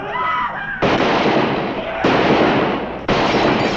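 Gunshots in a western TV show set in Dodge City: three loud, close, booming blasts spaced about a second apart, each with a long rolling tail, over faint background sound.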